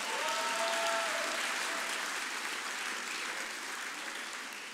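A church congregation claps hands at a prophetic ministry service, a sustained, loud wash of applause that fades slightly toward the end, with a brief voice-like tone near the start.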